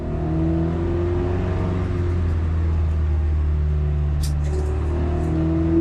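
A Lynk & Co 03 pulls away on a racetrack with a steady, moderately loud engine drone heard from inside the cabin, revs climbing gently, plus a brief click partway through.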